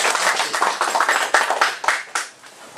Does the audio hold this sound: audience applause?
yes